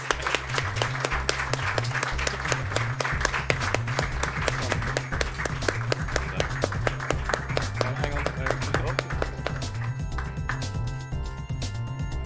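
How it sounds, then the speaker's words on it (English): Audience at a business awards ceremony applauding a winner, sustained dense clapping over a steady rhythmic music track with a pulsing bass beat, tapering slightly near the end. "One more round of applause"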